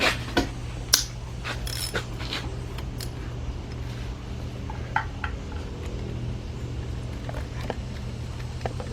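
A ratchet wrench clicks in short, irregular bursts during an engine rebuild on a Chevy Equinox or Buick Rendezvous, over a steady low hum in a workshop.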